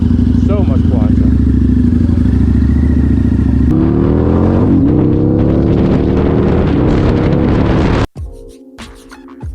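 A Harley-Davidson V-Rod motorcycle runs with a baffle fitted in its exhaust, its engine loud and close, idling and then revving up before cutting out sharply near the end.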